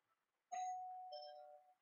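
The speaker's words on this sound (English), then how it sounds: "So if you hear a doorbell, I'm not going." A single indoor doorbell chime rings out clearly, a bright two-tone ding-dong that fades over about a second.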